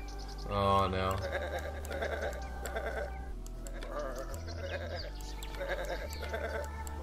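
Sheep in the video game Botanicula bleating repeatedly in short wavering calls, moderately loud over a steady low musical drone, with game sounds alongside.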